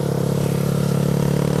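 A Honda Titan 190cc motorcycle accelerates with a steady, loud engine drone and harmonic hum held close, a faint clatter running underneath.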